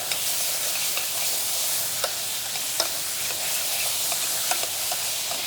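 Onions and a mix roasting in a pan while being stirred, giving a steady soft sizzle with light scrapes and clicks of the utensil at irregular intervals, close and moderate in level, with no talking.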